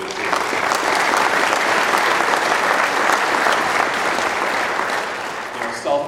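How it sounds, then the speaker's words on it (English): An audience at a LeRoy sports hall of fame induction ceremony gives a sustained round of applause, loud and dense, before it tapers off near the end. "Just a quick round of applause again for our inductees today."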